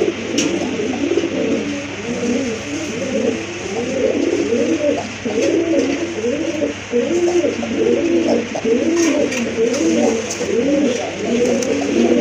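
A pair of feather-footed crested pigeons coos steadily and close by, soft rolling calls repeating throughout with a faint background hum.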